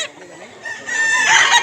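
A rooster crows once nearby, a loud drawn-out call rising toward its end, with faint background voices.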